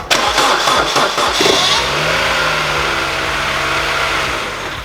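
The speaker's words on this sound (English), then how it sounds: "So what I'm gonna do now is start the car up." A crashed Mini Cooper under rebuild cranks briefly with rapid rhythmic pulses, catches, and settles into a loud, steady close-up idle.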